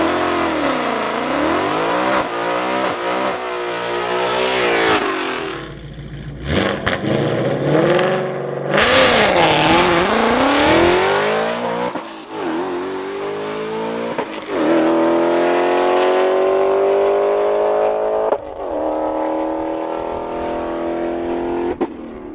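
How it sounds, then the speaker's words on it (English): Supercharged 2024 Mustang GT, 833 hp Whipple setup with a six-speed manual, launching and pulling hard down a drag strip, loud engine roar rising through gears with brief breaks between shifts, close and continuous. "Evan Smith taking the car down the track for the first time."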